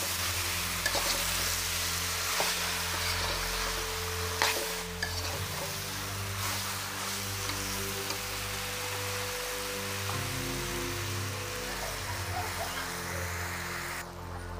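Malabar spinach and potatoes frying in a pan for a prawn curry, giving a steady, dense sizzle that runs the whole way through, with faint stirring scrapes and a low hum underneath.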